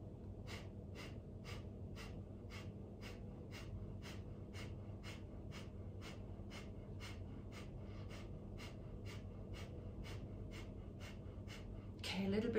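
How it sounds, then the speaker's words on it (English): Deep rhythmic breathing during a Kundalini yoga session, with quick, regular breaths repeating steadily about twice per second, close and soft over a low background hum. "breathing deeply."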